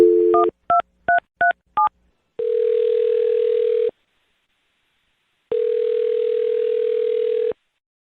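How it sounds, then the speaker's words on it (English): A quick series of touch-tone beeps as a number is punched in, followed by two long steady ringback tones separated by silence. "I'm going to dial her phone number right now"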